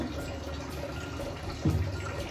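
Water runs from a tap while food is being washed for cooking in a home kitchen. The flow is a soft, steady splashing, with a brief louder gush near the end.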